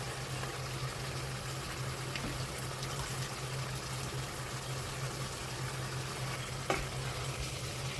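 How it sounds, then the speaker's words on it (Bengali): Chicken pieces frying in spiced masala in a pan, a faint, steady sizzle and crackle running continuously with one small clack near the end. "তো তারপর দিয়ে দিলাম মাংস, মুরগের মাংস আর কি"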